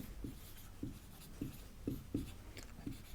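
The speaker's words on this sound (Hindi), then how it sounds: "फिर आगे लिखेंगे" Pen or marker strokes on a board during a Class 12 physics lesson on hydrogen spectrum radiation, heard as a steady series of short scratchy writing strokes, fairly close and with no voices.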